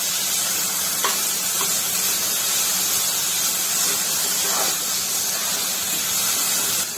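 Tomato and ginger-garlic paste sauté in a hot pan for paneer bhurji, a loud continuous hissing sizzle with a few faint stirring scrapes, close and without speech.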